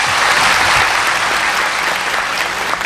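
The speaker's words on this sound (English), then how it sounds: "Let's express our heartfelt thanks and deep gratitude to Supreme Master Ching Hai with a big round of applause." An audience breaks into loud, sustained applause at a large conference, dense clapping filling the whole stretch without a break.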